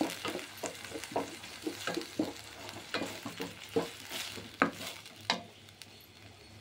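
Onion and tomato with salt being stirred in a pan, a spoon scraping in steady repeated strokes over a soft sizzle, close and fairly quiet.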